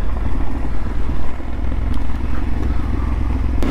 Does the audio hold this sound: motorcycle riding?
yes